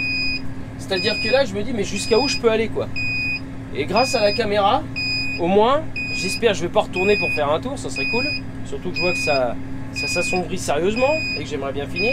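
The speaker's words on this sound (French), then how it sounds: "ce que vous entendez c'est le bip de fond de trémie." A seed drill's hopper-empty alarm beeps repeatedly in bursts during barley sowing in rain, with a tractor engine droning underneath while someone talks over it.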